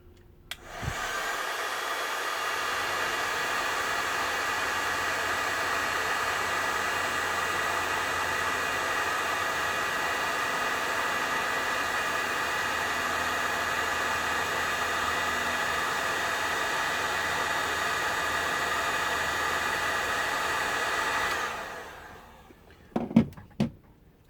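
A heat gun melts solder onto wiring while fitting a heated seat in a camper van, a steady loud broadband blowing roar running continuously for about twenty seconds before cutting off, followed by a few brief handling knocks.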